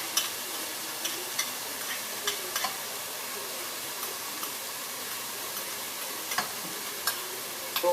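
Vegetables sweating in a pan for lamb shank confit are stirred, giving a steady soft sizzle with scattered light scraping clicks from the utensil, close and continuous with no talking.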